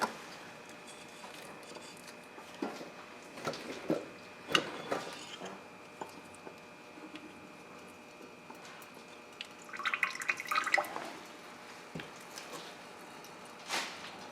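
Motor oil drains from a 2018-2019 Toyota C-HR into a bucket below, heard as faint, sparse drips and soft splashy trickles scattered over a quiet background, close by and without talk.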